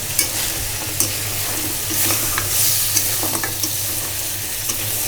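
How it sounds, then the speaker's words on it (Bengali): Pumpkin and lentil dumplings (kumra bori) frying in oil while being stirred in a pan, a loud steady sizzle broken by repeated scraping stirs, close up and with no talk. "কুমড়া বড়ি কুমড়া ভেজে নিচ্ছি"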